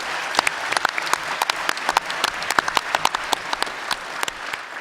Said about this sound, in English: Let's just give all 14 candidates one more round of applause.